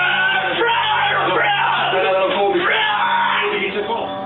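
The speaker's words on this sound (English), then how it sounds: "She screamed, growled, grunted, spit, convulsed, and foamed at the mouth." A young woman screams and growls in harsh, strained bursts during an exorcism in Gers, France, loud and continuous with no pauses over several seconds.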